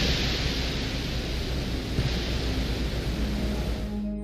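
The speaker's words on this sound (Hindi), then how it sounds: "उस पर चलने वाली हवाओं के एक साउंड को भी रिकॉर्ड किया। ये वो असली साउंड है जो वीनस ग्रह के अंदर सुनाई देता है।" Wind on the surface of Venus, captured by a Soviet spacecraft: a steady, dense roar of broadband rushing noise that holds at a constant level throughout, with no talk.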